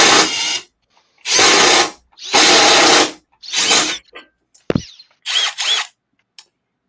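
Milwaukee power drill driving a screw in self-tapping mode, heard as several loud bursts of whirring drive of about a second each, separated by short gaps, with a few brief clicks and shorter whirs near the end.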